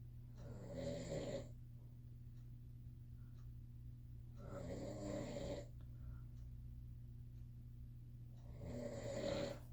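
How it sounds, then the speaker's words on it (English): A man snoring in a quiet room at night, three slow, rasping snores spaced several seconds apart over a steady low hum, faint and alone with no talking. "I'm not apologizing if you guys hear snoring in the background."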